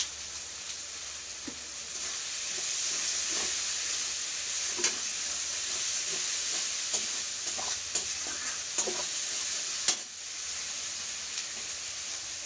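Spice masala for a raw banana kofta curry sizzles and fries in a pan while a spatula stirs it, giving a constant hiss with scattered scraping clicks and taps, and no talking.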